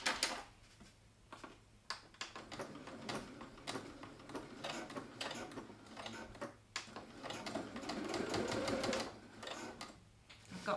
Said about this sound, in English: I'm going to just get that under the machine and sew that together.